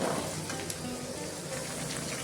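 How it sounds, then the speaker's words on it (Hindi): Cut potatoes fry in a pan alongside romaine lettuce for a vegetable dish, a soft, steady sizzle with faint crackles and no speech. "आलू को भी मैं 2 मिनट फ्राई करेंगे।"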